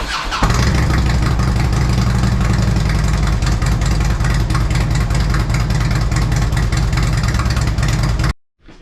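A Harley-Davidson Road King fitted with 36-inch FishTailz straight pipes runs loud and close, a deep, throaty rumble with a pulsing exhaust beat that holds steady for about eight seconds before cutting off abruptly.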